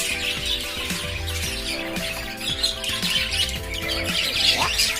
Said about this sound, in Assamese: বহুত চৰাই আছে